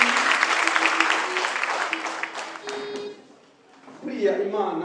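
Church congregation clapping together in praise, a brisk rhythmic patter under a voice, fading into a brief lull before a new burst of sound near the end.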